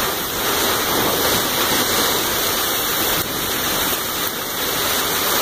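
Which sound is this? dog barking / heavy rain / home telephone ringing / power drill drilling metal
heavy rain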